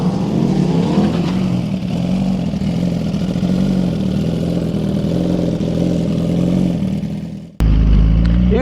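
A 2018 Suzuki GSX-R1000 sportbike at Shadyside Dragway holds a loud, steady engine roar for about seven seconds, which cuts off abruptly and is followed by a sharp burst of noise.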